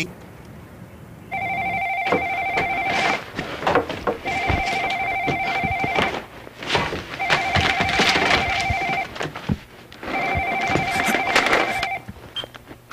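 A telephone rings indoors in four loud, evenly spaced bursts of double-toned bell ringing, with short gaps between them and a quiet background.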